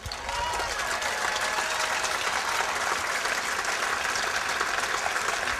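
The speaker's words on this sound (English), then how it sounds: "I'm glad that you're clapping at the proposal" Sustained audience applause during a talk by Laura Flanders, a steady, dense wash of clapping lasting the whole stretch, with faint voices mixed in.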